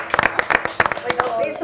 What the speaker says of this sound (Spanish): te aplaudimos, Marcelita, querida